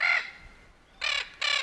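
A Spix's macaw, the rare little blue macaw with a gray head, gives three harsh, raspy squawks: one at the start, then a pause, then two close together, loud and near.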